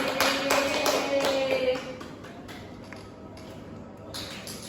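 Children clapping in a classroom, a brief round of quick claps that fades into quiet room noise.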